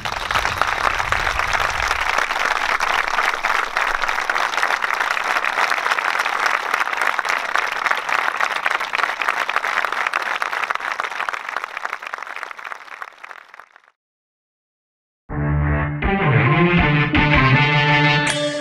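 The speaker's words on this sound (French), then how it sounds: "faire 30 secondes d'applaudissements pour lui" Sustained applause from a crowd at a volleyball tournament, dense and steady for about thirteen seconds before fading out; after a brief silence, music starts.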